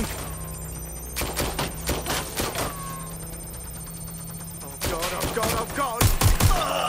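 Video game gunfire in Watch Dogs: Legion: loud bursts of rapid shots in two clusters separated by a quieter stretch, close and punchy against a steady low background hum.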